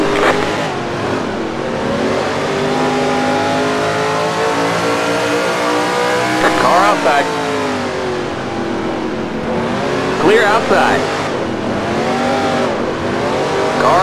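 Whelen Modified race car engines drone loudly and continuously at North Wilkesboro in the NR2003 racing game, with pitch rising and falling through shifts and passing cars, and no talk over it.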